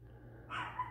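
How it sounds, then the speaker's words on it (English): A single faint dog bark in the distance, short and muffled, over a low steady background hum. "sorry if you hear my dog barking like crazy"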